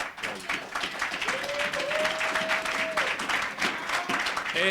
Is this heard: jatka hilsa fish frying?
no